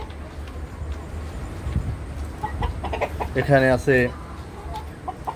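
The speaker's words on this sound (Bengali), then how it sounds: "দেখেন ফার্মি পুলেট এবং ব্রাহ্মা মুরগিটা, এটাও ব্রাহ্মা মুরগি" Caged Brahma hens and farm pullets about four months old cluck in a short, loud burst near the end, following quieter scratching and a brief spoken remark.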